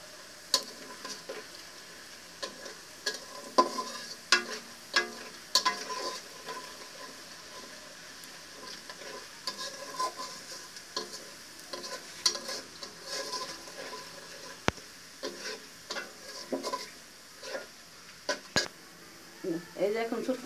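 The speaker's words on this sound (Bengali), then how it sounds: "এই যে এখন ছোটকুলি শাক দিয়ে দিলাম তেলে" Chhotokuli shak greens fry in hot oil in a pot, a steady sizzle broken by frequent sharp stirring scrapes and clinks, with a voice talking over it at times.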